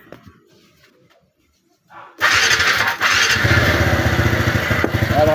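Honda Easyride 150 scooter engine starting after a valve and timing chain adjustment: quiet clicks, then a sudden loud catch into a steady idle that runs close and continuous to the end.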